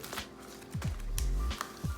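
A garlic bulb is put into a reusable plastic bag, giving a few soft crinkles and rustles of plastic, fairly close and heard on its own.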